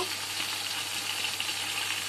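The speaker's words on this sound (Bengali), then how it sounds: "তেলের মধ্যে চিকেনটা দিয়ে দিলাম" Steady, gentle sizzling of chicken frying in hot oil with fried onions and garam masala, soft and continuous with a faint low hum behind it.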